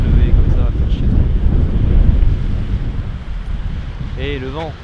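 Wind buffets a microphone outdoors during a time-lapse photo shoot, making a loud, steady low rumbling roar for the whole stretch, with a brief voice near the end.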